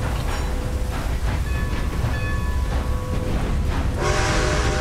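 A steam train chugs along steadily in the Red Dead Redemption 2 video game, with a rumbling rolling clatter and faint tonal bell or whistle overtones, then a brighter hiss of steam near the end; no voices.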